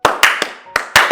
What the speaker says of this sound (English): Come on, clap for yourself.